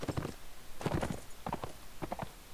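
Horse hooves from the Mount and Blade video game, heard as a quick run of rhythmic clip-clop thuds, fairly soft and spread across the moment.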